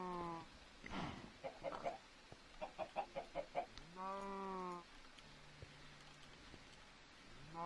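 Minecraft chickens cluck in a video game, short rhythmic clucking bursts close by between longer tonal squawks, with a brief voice at the start.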